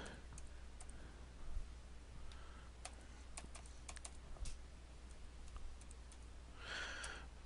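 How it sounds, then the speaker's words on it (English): A name and password are typed on a computer keyboard as faint, scattered key clicks over a steady low hum, quiet and fairly distant, with no talk. "We're going to type in John Doe's name and password"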